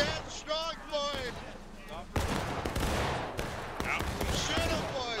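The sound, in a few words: musket volley gunfire in War of Rights video game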